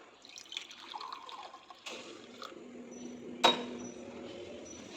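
Hot water is poured from a kettle into a cup, a thin trickling stream with a couple of sharp clinks, one louder knock near the end, in a quiet kitchen.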